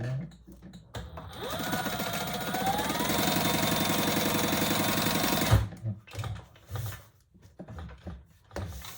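A sewing machine stitches across the bottom of a fabric wallet piece, its motor whirring steadily in a fast rhythmic run for several seconds before stopping, followed by a few softer handling clunks.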